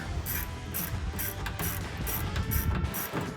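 Hex head screws on a Jeep Gladiator JT tailgate light being tightened with a ratchet: rapid, regular clicking of the pawl in short bursts, close up and clear, with no voices.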